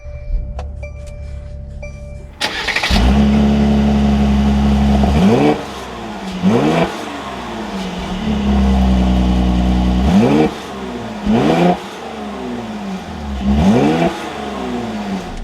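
Mercedes-AMG GLC 43 4Matic starts with a sharp cold-start roar that settles, followed by several strong exhaust revs rising and falling, each blip clear and loud.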